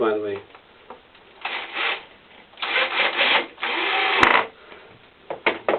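A drill drives self-countersinking screws into a shadow box frame, making several short whirring, grinding bursts with a person talking between them.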